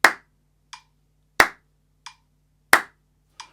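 Hands clap a steady beat, three sharp loud claps evenly spaced about 1.4 seconds apart, each followed by a softer snap-like tap, close up with silence between.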